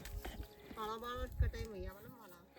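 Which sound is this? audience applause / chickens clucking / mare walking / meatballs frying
mare walking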